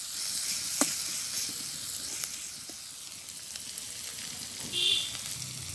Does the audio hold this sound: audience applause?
no